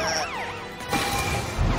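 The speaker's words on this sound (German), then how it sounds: "Benutze deine Sirenen, Supertruck." A cartoon truck's siren sounds in a quick wailing sweep that rises and falls, loud and close, with a brief burst of clatter near the end and no talking.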